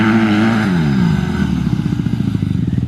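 Honda CRF150R and CRF150F dirt bikes race past, one engine revving high then dropping into a rapid, popping low-pitched putter as it passes close and loud.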